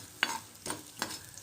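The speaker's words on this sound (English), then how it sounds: "Now I'm going to do dry roast." Spices dry roasting in a tablespoon of oil in a frying pan, quiet stirring scrapes and soft sizzling in three short bursts, close and alone.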